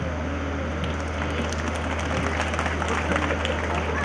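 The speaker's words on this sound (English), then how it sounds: "I think for the first time we are listening to some clap." Audience clapping at a school event, a continuous crowd applause filling the space at steady volume, with some voices mixed in underneath.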